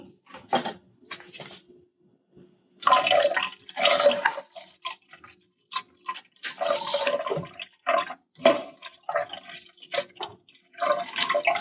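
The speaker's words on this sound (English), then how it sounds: "we're going to open up our water container here, and we're going to add the descaling solution" Descaling solution is poured into the water container of a KitchenAid Nespresso machine, with bursts of splashing and gurgling liquid broken by short pauses and small plastic clicks, close up.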